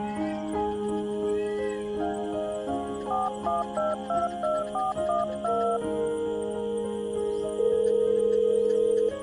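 A phone ringtone plays for an incoming call, a steady stepped melodic tune repeating close and clear over a low background hum, ending in a sustained tone, with no talking.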